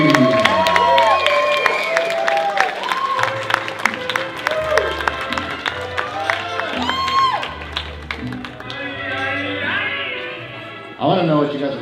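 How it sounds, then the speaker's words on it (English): Wedding guests applaud and cheer the newlyweds, clapping and whoops mixed under loud music and an announcer's voice, busy and close. "Get on your feet and give them a big round of applause, ladies and gentlemen"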